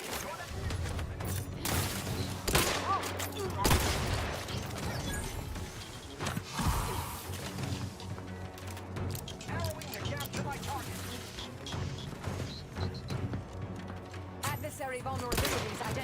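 Gunfire from the video game The Outer Worlds 2: bursts of shots mixed with mechanical clanks and crashes recur throughout, running under ongoing talk.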